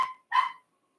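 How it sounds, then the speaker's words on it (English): A little dog gives two quick, sharp yips close by, the second a bit longer, followed by silence. "That's my little dog carrying on."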